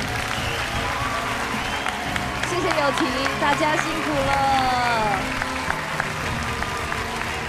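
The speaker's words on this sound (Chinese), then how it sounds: "我们再次给友廷还有所有辛苦的老师再次一个最大的掌声" Audience applause for the newly crowned first-season champion of a televised singing competition, a steady broad wash of clapping with cheering and music underneath while a host speaks over it.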